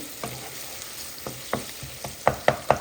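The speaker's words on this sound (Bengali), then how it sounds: "এখানে পেঁয়াজ, শুকনা মরিচ, জিরা, আস্তা জিরা, আর সাথে দিলাম আদা রসুন দিয়ে ভালো করে এটাকে নরম করে নিচ্ছি।" Onion, dried chili, whole cumin, ginger and garlic fry in a pan, with a quiet steady sizzle broken by a run of crisp stirring scrapes that grow louder and quicker toward the end.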